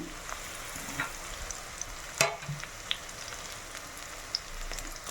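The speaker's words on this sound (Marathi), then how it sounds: "कांदा ग्रीन चिलीज फ्राय होत आहे" Chopped onion and green chilies frying in hot oil, giving a steady close sizzle with scattered sharp pops and one louder clatter partway through.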